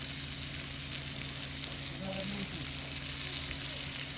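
Ridge gourd curry with crushed peanut powder stirred in, a steady soft sizzle in the pan with a brief stirring scrape partway through, close and even throughout.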